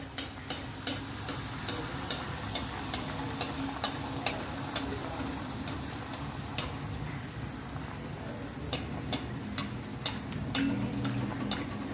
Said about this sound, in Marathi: बघा, हे आपण हे असे तळून घ्यायचे आहेत